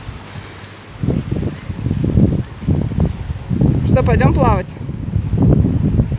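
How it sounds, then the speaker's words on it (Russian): Gusty sea wind at a stormy Hurghada shore buffets the microphone in loud rumbling bursts, with a person speaking briefly and a faint birdlike chirp partway through. "У меня даже телефон из рук вырывает ветер."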